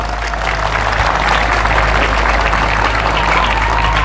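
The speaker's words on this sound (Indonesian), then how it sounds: "Maka tepuk tangan untuk Nazhatul Thullab." A crowd at a religious memorial gathering at an Islamic boarding school in Indonesia applauds, a dense, steady wash of clapping over a low electrical hum, loud and sustained throughout.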